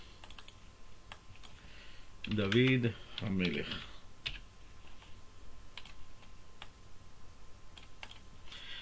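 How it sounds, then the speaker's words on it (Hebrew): Keyboard typing and mouse clicks while working in label design software, light scattered taps throughout, with someone speaking briefly in Hebrew partway through. "עושה דאבל קליק ורושם את המילה אינטל ירושלים, שם אותו פה."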